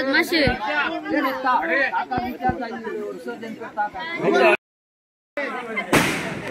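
A few sharp firecracker bangs crack through lively chatter and voices at a Ganesh idol immersion in Konkan, with a final loud burst near the end.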